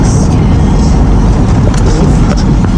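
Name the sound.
car driving on a bumpy road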